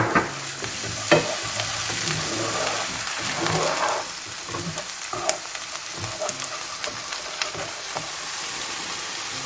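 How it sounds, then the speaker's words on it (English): Crushed garlic stirred in a hot pan for pizza sauce, a steady close sizzle of frying broken by scraping utensil strokes across the pan, no voices. "2 garlic cloves crushed, and if you don't have fresh garlic cloves, you can use 2 tablespoons of crushed garlic. And you're just going to stir that for a 1/2 minute."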